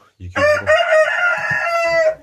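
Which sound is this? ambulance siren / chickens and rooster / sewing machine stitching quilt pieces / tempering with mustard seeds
chickens and rooster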